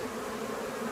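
Honeybees in a nucleus colony give off a steady, dense buzzing hum, close and continuous, with no voices over it.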